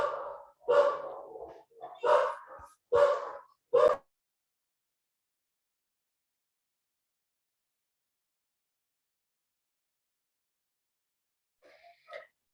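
Several sharp dog barks in quick succession, loud and close, followed by a long silence and a faint distant bark near the end.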